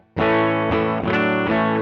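A Hagstrom Deuce F electric guitar on its bridge pickup, volume knob rolled back, plays a few sustained, overdriven chords through a pushed amp, each strum ringing out over a short phrase.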